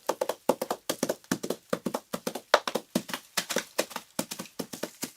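Rapid clip-clop horse hoofbeats patter in a steady galloping rhythm, crisp and close, with no voices; a layered film sound effect made partly with coconut shells.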